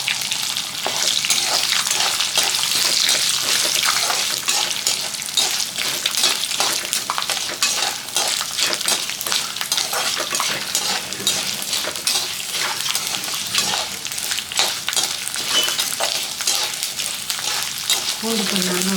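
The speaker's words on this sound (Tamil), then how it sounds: "பூண்டு கொஞ்சம் நல்லா வதங்கணும்." Garlic sautéing in a pan for a spicy kuzhambu, a dense continuous sizzle with crackling pops close up, steady and loud from start to finish with no one talking.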